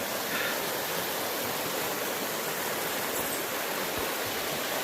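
The Kettle River flows in Banning State Park north of Hinckley, Minnesota, a steady, even rush of water that carries on unbroken, moderately faint, with no voices over it.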